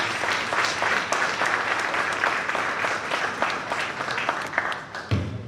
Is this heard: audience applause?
yes